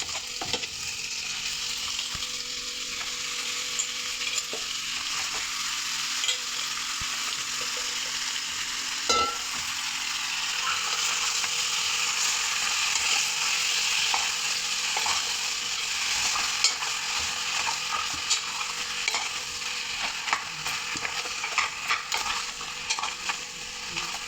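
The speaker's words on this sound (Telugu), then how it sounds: "తాకింపులు వేసుకోవాలండి కొంచెం నూనెలు బాగా వేగాలి" Chicken sizzles in hot oil with tempering spices as it is stirred in a pan, a loud, continuous close-up frying hiss broken by frequent scraping and clinking of the spoon, with no talk throughout.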